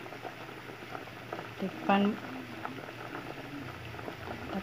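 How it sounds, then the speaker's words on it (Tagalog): Sweet potatoes boil in a covered pot with a soft, steady bubbling simmer, quiet and close, while a voice speaks briefly over it. "Yan, kumukulo na."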